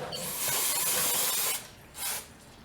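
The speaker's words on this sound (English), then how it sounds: "Just cleaning all the brake dust and" Brake cleaner sprayed into a drum brake to flush out dust and residue: a long hissing burst of about a second and a half, then a short second spray, close by.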